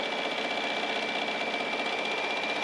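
A sewing machine stitches quilt block pieces in a steady, fast, continuous mechanical hum with no pauses.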